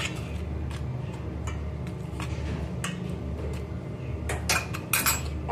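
Cumin, carom seeds and salt are mixed together in a bowl, giving soft, irregular clinks and scrapes of utensil on bowl over a steady low background hum.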